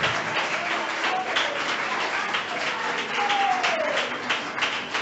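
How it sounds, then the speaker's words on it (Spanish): A church congregation applauds loudly and continuously, a dense wash of clapping from many hands with a few voices calling out over it. "Dele un fuerte aplauso al Rey de Gloria."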